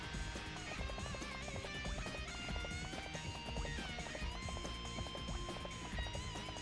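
Rhythmic hoofbeats of a galloping horse in Dynasty Warriors 3 ring out over a dense, busy game soundtrack with clashing battle noise, steady and loud throughout.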